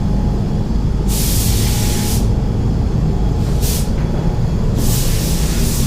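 A spray gun applies clear coat over base coat in an automotive paint booth, three loud hissing bursts of different lengths over a constant low booth rumble.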